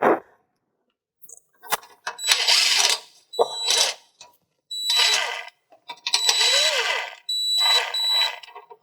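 Phillips screws being backed out of a 2019 Acura TLX front bumper cover, heard as bursts of high whirring from a powered screwdriver with short pauses between them, close and fairly loud.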